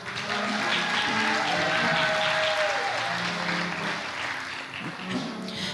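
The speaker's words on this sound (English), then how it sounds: "Please give a round of applause for Ms. Kaylee Brown and Mr. Owen Kramer." A school formal assembly audience applauds continuously, a dense, sustained wash of many hands clapping at steady loudness, with some faint voices and a tone mixed in.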